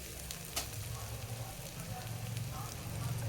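Spiced potatoes and fish fry in a pan, a steady close sizzle and crackle with a few soft knocks, no voices over it.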